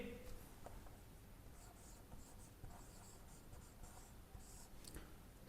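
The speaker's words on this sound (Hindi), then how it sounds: "अब हम इसके नीचे लिखेंगे" Pen scratching across paper while a Class 6 maths problem is worked out, a steady run of quiet strokes and taps that continues without a break.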